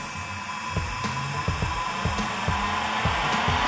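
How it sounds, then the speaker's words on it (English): A small nail dust collector fan runs steadily close by, a smooth airy whir with faint rhythmic ticking beneath it, continuous and alone without any voices. "then I'm gonna turn my dust collector on"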